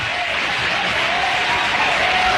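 Audience applause from a played broadcast clip of a political speech, a steady, dense wash of clapping at constant loudness throughout, with no talk over it.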